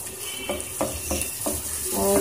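Chopped onion with garlic and ginger frying in a pan as masala for spicy okra, a steady close sizzle broken by several stirring scrapes and clinks of the spoon.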